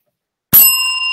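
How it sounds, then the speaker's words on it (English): After a half-second of silence, a single loud bell rings sharply and nearby, its bright metallic tone ringing on evenly until the end. "You want me to just ring the bell when?"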